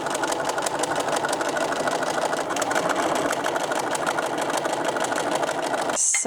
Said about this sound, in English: And now we will just sew the whole circle again with a seam allowance of 1 centimeter.